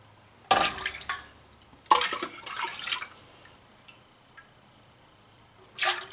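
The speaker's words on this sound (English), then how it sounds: "we're going to take that juice that we reserved and we're going to put it into our big cooking pot" Reserved fig juice splashes and pours into a big cooking pot in a few short bursts, with quiet gaps and small drips between them.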